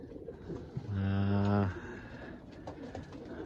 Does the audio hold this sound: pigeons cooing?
yes